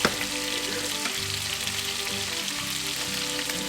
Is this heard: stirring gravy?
yes